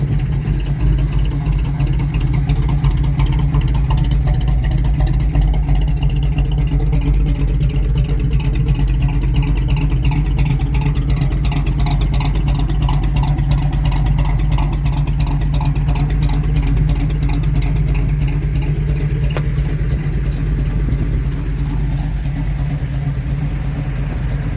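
A 1969 Chevrolet El Camino with a 454 big-block V8 and a freshly broken-in new camshaft idles steadily and loudly up close, a deep, lopey rumble with a constant low throb and no talking.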